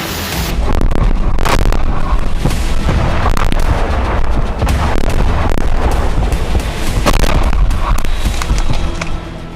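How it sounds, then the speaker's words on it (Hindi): Heavy blasts follow a Ukrainian rocket striking a car in Belgorod, Russia. Loud booms and rapid crackling bursts run densely and continuously for several seconds, with no speech. "यूक्रेन का एक रॉकेट बेलगोरो में एक कार पर गिरा, जिसके बाद जोरदार धमाका हुआ।"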